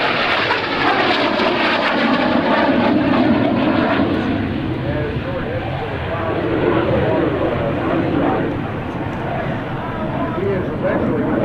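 An F-86 jet fighter roars past at an airshow at NAES Lakehurst, a loud, sustained engine rush that swells and eases while an announcer talks over it.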